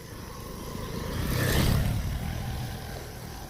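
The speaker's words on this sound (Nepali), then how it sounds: "बाइक पनि चल्दैछ" A motorcycle on a mountain road grows louder as it nears and passes, its engine hum swelling in the middle and then fading against steady background noise.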